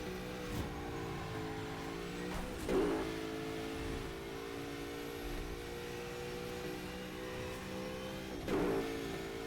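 Engine of a car driven in the racing game Burnout Paradise, a steady mid-pitched drone with two brief louder revving surges, continuous and close with no talk.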